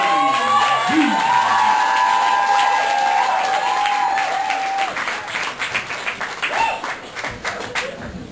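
An audience in a live performance hall claps and cheers loudly for a competitor, with whoops over sustained applause that gradually thins and becomes more scattered toward the end.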